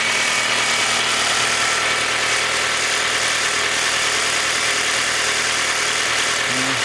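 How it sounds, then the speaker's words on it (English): A 2019 VW Tiguan engine idling noisily, heard loud and close as a constant mechanical drone with low rumble and ticking, unchanged for several seconds with no talking. "This is a noisy little engine though"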